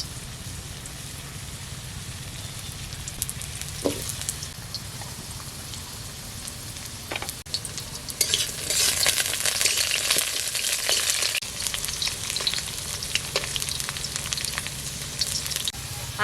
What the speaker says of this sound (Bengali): তেল দেবো, কড়া গরম হয়ে গেছে। আলুগুলোকে আগে ভেজে নেব।